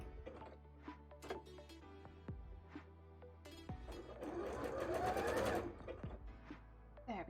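A sewing machine stitches a zigzag seam on a Lara Croft costume bra, with a few short bursts and then a longer steady run of rapid stitching close by and no talk.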